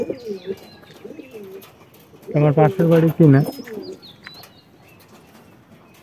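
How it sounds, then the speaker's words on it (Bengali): Pigeons coo softly around a house in Bangladesh, low repeated calls in the background, with someone briefly speaking over them midway. "এই যে কবুতর, বিভিন্ন কবুতর"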